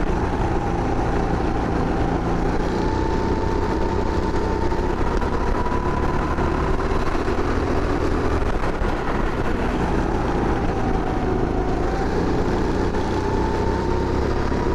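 Racing go-kart engines at the Chioggia Kart track during a Triveneto club round buzz loud and continuous from close by, the pitch sweeping up and down as the kart accelerates and brakes through corners.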